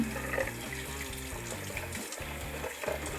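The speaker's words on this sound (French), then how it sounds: "Donc on va rallumer le lavabo." A bathroom sink tap runs steadily, water splashing into the basin at a moderate level while a doll's hair is rinsed, the flow briefly interrupted by a few soft bumps.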